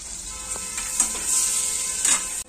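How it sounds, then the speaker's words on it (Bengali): Butter melts and sizzles in a hot kadai for white pasta, a steady close hiss that swells and fades slightly, with a few faint clicks of a utensil touching the pan, and no talk. "কড়াটার মধ্যে এবার একটু বাটার দিয়ে দেবো, যতটা লাগবে সবটাই দিয়ে দেবো।"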